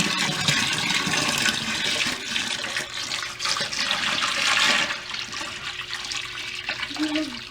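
Water rushing and splashing as it fills a basement sump pump pit during a pump replacement, a steady gushing pour that swells and eases with faint background noise.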